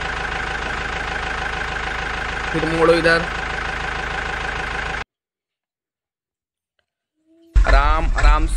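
A cartoon mini tractor loaded with white cement idles and maneuvers with a steady mid-pitched engine chug, a brief rising whine partway through, then cuts to silence before the engine returns under a voice giving directions.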